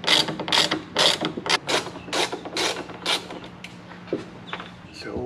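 A ratchet tool loosens fasteners on the trunk lining of a Mercedes W211 E-Class, giving a quick run of close, rhythmic clicking strokes with creaks and light handling noise.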